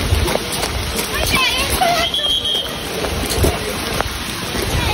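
Steady rain pours during a flood and landslide as people walk outdoors, a dense, continuous hiss close by with faint voices mixed in.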